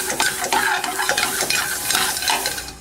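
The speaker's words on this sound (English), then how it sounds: "Now I'm just going to add a little bit more butter in here to finish these off" Brussels sprouts sautéing in butter in a pan, a steady close sizzle with frequent scrapes and clinks of a utensil stirring throughout, no voices.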